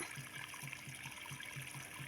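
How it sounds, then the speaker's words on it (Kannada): Thin trickle of borewell water running at low flow, a steady faint splashing with a soft, regular pulsing beneath it, continuous and fairly distant with no voices. "ನಮ್ಮ ಬೋರ ನೀರು ಭಾಳ ಕಮ್ಮಿ ಐತೆ ನೋಡ್ರಿ ಕಮ್ಮಿ ಅಂದ್ರೆ ಭಾಳ ಕಮ್ಮಿ ಐತ್ರಿ ಫ್ರೆಂಡ್ಸ್ ಅದಕ್ಕೆ ನೀರು ಇಷ್ಟೇ ಒಗಿತೈತೆ ನೋಡ್ರಿ"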